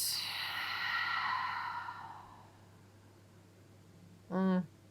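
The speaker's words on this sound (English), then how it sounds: "Audible exhale along with it" Long audible exhale during a slow, gentle yoga flow: a breathy sigh fading over about two seconds, followed by a brief voiced tail near the end, close and fairly soft against quiet room tone.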